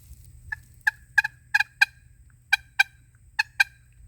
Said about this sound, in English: So clucking on a long box, you can do it with pressure.